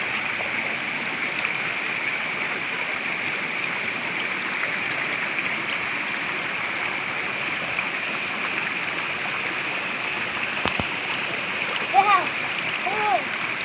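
Cold, shallow stream water flows continuously with a steady, even rushing hiss. It is close and fairly loud, with a few brief splashy disturbances near the end.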